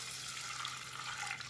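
Water pours steadily into a pan while cooking a traditional Gujarati green mango garvanu with toasted wheat sev, a continuous broadband splash with even loudness and no talk.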